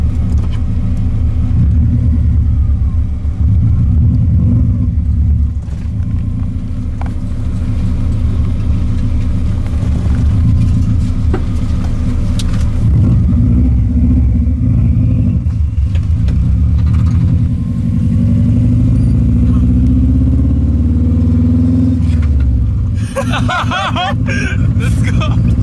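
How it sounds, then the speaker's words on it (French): A car engine revs after an ignition coil conversion and gives off a Subaru-like tone. The loud, continuous low rumble runs throughout with shifting revs, and people talk excitedly over it. "Ça sonne comme une Subaru pour la première fois."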